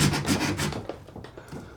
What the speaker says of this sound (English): so I'm gonna cut the vent.